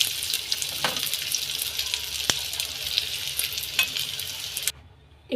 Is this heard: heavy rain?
no